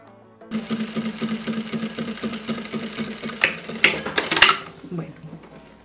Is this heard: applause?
no